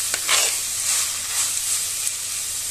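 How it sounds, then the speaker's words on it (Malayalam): Prawns sizzle in a frying pan while being stirred into a spiced mix for a home-style coconut thoran, giving a steady close hiss and frying crackle with scraping stir strokes throughout. "നന്നായിട്ടൊന്ന് മിക്സ് ചെയ്ത് കൊടുക്കാം."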